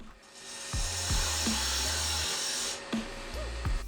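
A spindle gouge makes a pull cut on a mallet handle spinning on a wood lathe, giving a steady scraping hiss over the motor's low hum, broken by a brief pause before cutting resumes.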